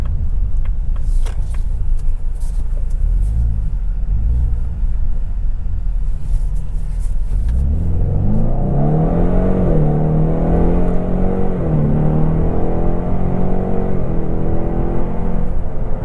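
The 2024 Ford Mustang EcoBoost Premium's turbocharged engine rises from a low idle rumble into a strong, steady acceleration, its droning pitch climbing and holding loud and close from the cabin, with no talking.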